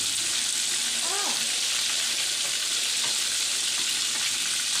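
Butter frying in a pan with thyme gives a steady, dense sizzle from start to finish, with a brief clatter of cookware in the middle and faint voices in the background.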